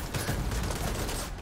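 Dense, continuous gunfire aimed at a robot on Mars in The Division 2, a loud, busy burst of rapid shots filling the whole moment with no talking.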